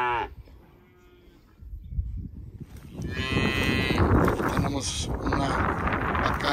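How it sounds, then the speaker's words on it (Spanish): Beefmaster cattle on a ranch give several loud, drawn-out moos close by, with wind noise and voices in the background. "Una vaca hija de Rocky Sugar, vaca de registro"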